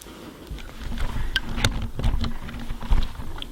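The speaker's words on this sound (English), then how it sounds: "sorry about the rustling noise" Close, irregular rustling and scraping as a 65-litre backpack and a camera are handled inside a tent, with scattered crinkly bursts and soft knocks.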